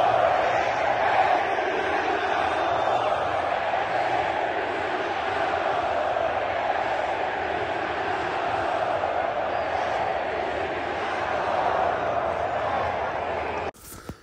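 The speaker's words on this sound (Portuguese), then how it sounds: "E a torcida do Flamengo não vai perder a chance de provocar. Gritando eliminado." Flamengo supporters chanting "eliminated" in a football stadium, a massed crowd roaring a sustained rhythmic chant from a distance, loud and continuous, with an abrupt cut near the end.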